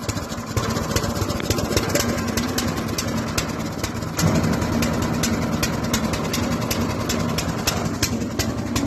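A GTM LC 80R wood chipper's engine runs loud and close for the whole stretch, a steady mechanical roar with rapid rattling pulses and no pause.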